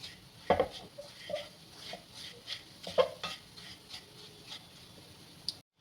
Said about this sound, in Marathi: एकसारखा गुळ आपल्याला हलवून घ्यायचा आहे